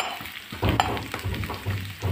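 Sliced onions frying and being stirred with bitter gourd in a pan, a steady close sizzle broken by scraping stirs, with no voices.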